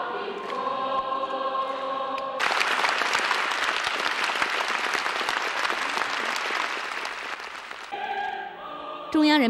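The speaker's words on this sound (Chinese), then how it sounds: "博得全场阵阵热烈掌声" A concert-hall audience of nearly a thousand bursts into warm, sustained clapping after a performance by the Central People's Radio children's choir, the dense applause rising sharply from the tail of the singing and fading back into music.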